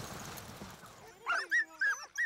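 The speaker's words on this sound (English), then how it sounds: "A quick, clean start for the veteran racer and his second string of Saunderson dogs." Sled dogs at the start of a sprint race let out four high, excited yips and whines in quick succession, close by, after a stretch of soft outdoor noise.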